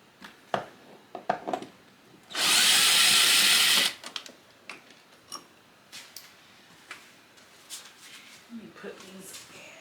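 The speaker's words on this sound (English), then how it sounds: "And I should be using the drill. It'll go a lot faster." A power drill whirs in one steady burst of about a second and a half, close and loud, surrounded by clicks and handling noises.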